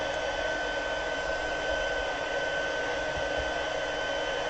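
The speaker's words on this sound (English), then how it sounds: "you want to heat up that embossing powder, melt it real well, kind of tap your heat tool down on it" A heat tool blows hot air to melt embossing powder on parchment, a steady, loud hair-dryer-like whoosh with a constant fan hum and no pauses.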